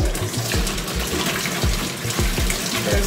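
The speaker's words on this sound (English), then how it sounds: "I just like washing my hands" Water runs from a kitchen tap while hands are washed with soap, a steady close splashing with irregular bursts and gurgles as the hands move under the stream.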